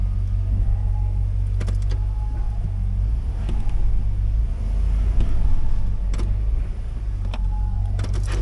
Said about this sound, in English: For the hell of it, let's put her in 4 high.